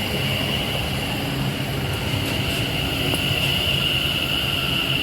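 A train runs through Bushey station on the West Coast Main Line, a steady loud rumble with a sustained high whine, no voices over it.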